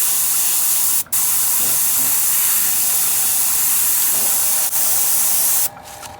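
Airbrush spraying paint almost straight up onto a fake eyeball masked with tape, a steady close hiss running nearly continuously with two brief breaks and a stop near the end.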